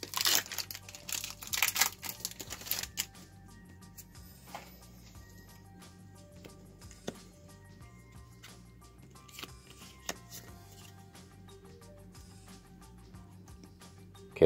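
Pokémon card booster pack wrapper crinkled and torn open, a dense burst of crackling foil plastic in the first three seconds, then quiet with occasional faint clicks and rustles.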